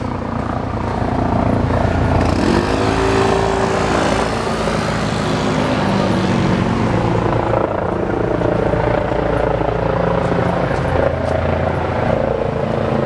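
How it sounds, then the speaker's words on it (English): A helicopter thunders steadily overhead on South Street in Philadelphia, its rotor chop loud and continuous throughout, with faint street noise beneath. "I hear a helicopter"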